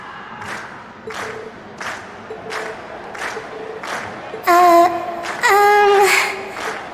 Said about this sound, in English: we've heard your cheers loud and clear